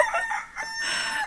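A rooster crows loudly and close in one drawn-out, wavering call with no talk over it.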